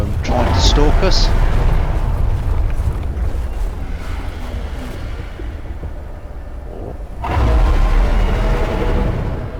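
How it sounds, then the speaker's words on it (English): A video game ice worm stalks the player as a loud, deep rumbling roar that swells, fades into a lower churn, then surges back, rough and booming, like heavy ground-shaking movement close by. "as you can hear, we have an ice worm trying to stalk us"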